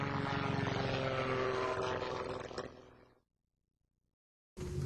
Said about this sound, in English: proving that an engine-driven, heavier-than-air machine could fly